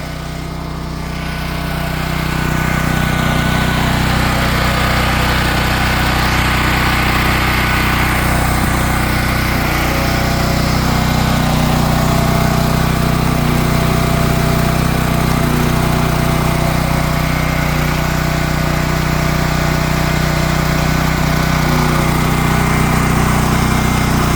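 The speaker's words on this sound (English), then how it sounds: "So we're going to let that run with that little bit of load on it." A small Champion dual fuel generator runs steadily and loudly under a light load throughout, with a constant drone and no voices.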